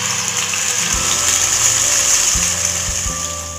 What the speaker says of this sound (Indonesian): Ini bumbu halusnya dimasukkan semua ya.